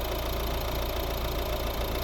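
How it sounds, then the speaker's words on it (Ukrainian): A 2014 Volvo V40 with a 1.6 diesel engine idling, an even, steady low rumble with a faint rhythmic knock, close and constant with no speech. "Ну і робота двигуна."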